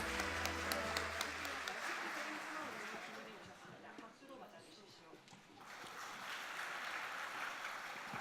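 Audience applause at a women's peace conference, a steady wash of clapping lasting several seconds at moderate distance, with voices and a brief low hum near the start.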